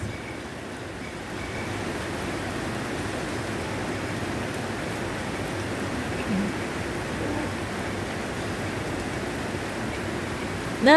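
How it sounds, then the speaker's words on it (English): Steady rain falls outside in a spring downpour, a constant broadband hiss with no breaks and no clear voices, even and moderately loud throughout. "Lovely rain."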